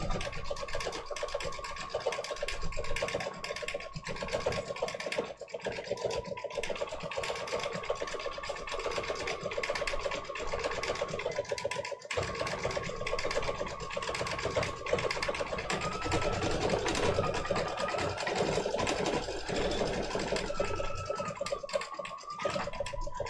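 A machine embroidery unit stitches out a quilted design, running as a steady, fast mechanical chatter with a continuous hum that holds close and even throughout, with a few brief dips.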